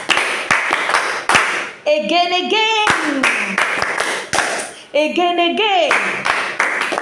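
Students in a language class clap together in short, sharp rounds, with distinct individual claps spaced out between them. Voices speak and call out in between the clapping.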